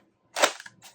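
A Nerf Fortnite Pump SG blaster fires a single Mega Dart: one sharp, close pop with a springy clack, followed by a short rattling tail and a faint second knock, with no talking.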